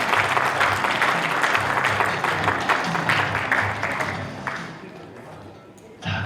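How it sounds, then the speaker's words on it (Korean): An audience at a book concert event applauds warmly in thanks, a dense round of clapping with murmuring voices that gradually thins and fades out. "여러분 감사의 박수를 한번 드리겠습니다."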